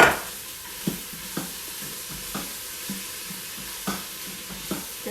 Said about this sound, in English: Now we're gonna add our peppers.